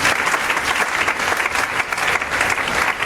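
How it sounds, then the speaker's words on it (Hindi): Steady applause from a seated audience at a leadership training talk, dense and even clapping filling the room for about three seconds with no voices on top. "सर के लिए तालियां हो जाए सर एक बार"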